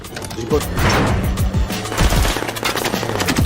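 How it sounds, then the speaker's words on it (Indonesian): Bursts of film gunfire rattle at a car, rapid overlapping shots and cracks in dense volleys throughout, with voices mixed in. "Karena mobil ditembak dan ban juga meledak"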